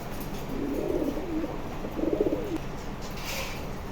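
A pair of pigeons offered for sale coo twice in soft, low rolling calls, close by over a faint steady background hiss.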